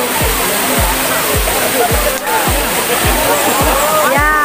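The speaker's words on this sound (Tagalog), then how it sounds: "Ayan ang mahabang falls. Dito yan sa Bato Stream." The long waterfall at Bato Stream, Bato Spring Resort in San Pablo, Laguna, pours with a strong current. It makes a loud, steady rushing roar with rhythmic low thuds, and a voice speaks briefly.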